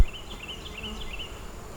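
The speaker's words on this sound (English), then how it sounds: "Holy moly, lots of bees on this side." Honey bees crowd a hive frame during a backyard hive inspection, giving a close, steady, unbroken buzz with no voices over it.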